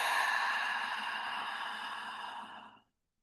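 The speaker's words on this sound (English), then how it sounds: "And then exhaling." A long, deep exhale during guided belly breathing, a soft steady breathy rush that trails off over a few seconds and ends in silence.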